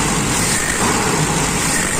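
A Toyota Kijang Grand 5K engine with its original carburetor revs a little faster, giving a loud, continuous, slightly higher engine roar that stays steady for two seconds, close up and without talk.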